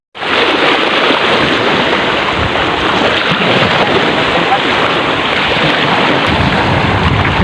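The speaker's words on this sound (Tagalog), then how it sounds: "medyo lumalakas na si hanging amihan" A strong northeast monsoon wind blows over the sea during fishing, a loud steady roar that buffets the microphone and covers everything else throughout.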